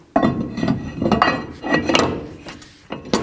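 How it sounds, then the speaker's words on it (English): Brake rotor slid onto the wheel hub of a 2007-2014 GMC Sierra 3500 HD, several close metallic clunks and clinks in an irregular run, no speech. "Now put the rotor on."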